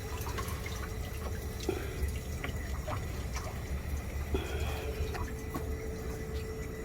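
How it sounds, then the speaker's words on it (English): Water drains from the collector drain tank of a D.E. pool filter as a steady, close rushing flow with scattered drips and splashes, continuing without a break. "Then we open up our drain tank."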